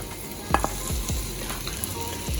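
Peppers fry in a preheated pan with a close, steady sizzle, broken by a few sharp scrapes and clacks of stirring.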